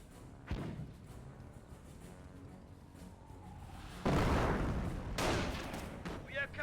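Gunfire in the World War II strategy game Company of Heroes: a sharp shot, then a heavier burst of firing and thuds a few seconds later, set against a low battlefield rumble and a narrator's voice.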